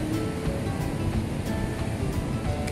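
Steady wash of ocean waves breaking on a beach, a continuous broadband surf roar at moderate level with no voices over it.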